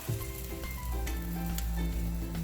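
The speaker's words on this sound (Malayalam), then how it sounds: "കുറച്ച് വെള്ളം ഒഴിക്കാം." Water poured into a pan of Kerala-style fish curry sets off a steady, close sizzle and bubbling hiss that swells slightly and continues throughout without talk.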